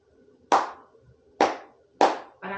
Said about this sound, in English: Go ahead, clap the rhythm of the right hand